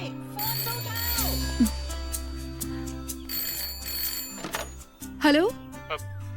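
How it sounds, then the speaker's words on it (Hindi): A telephone rings repeatedly among electronic tones, thumps and a busy mix of sounds, with voices heard over it. "अरे कोई है, फोन तो उठाओ।"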